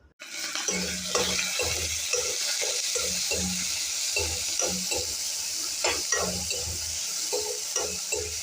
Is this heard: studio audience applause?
no